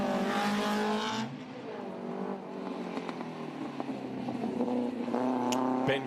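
A Ford sprint car, driven very hard at Leyburn Sprints, roars past at high revs with a harsh, rising engine note, loud and close at first, then fading and building again.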